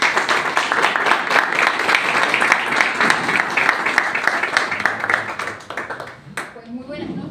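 An audience at a brotherhood evening lecture gives a strong round of applause to welcome the speaker, dense clapping sustained for about six seconds before fading, after which a voice begins talking.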